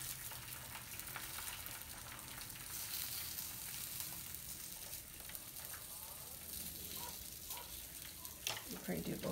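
Eggs sizzle and crackle steadily on an IKICH nonstick smokeless electric indoor griddle, a faint continuous hiss running throughout with a short scraping sound near the end.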